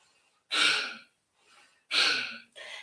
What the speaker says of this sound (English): we're going to do a little cleansing breath, Kapalabhati